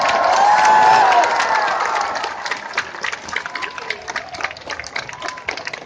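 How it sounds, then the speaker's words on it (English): An audience at a summer festival claps and cheers, loud at first, then thins into scattered claps, with a voice and shouting mixed in. "Let's give a big hand"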